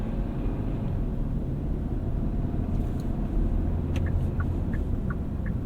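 A 2023 Kia Sportage Hybrid LX drives along with its engine running: a steady, low engine and road rumble fills the cabin, even and continuous, with a few faint clicks and no talking.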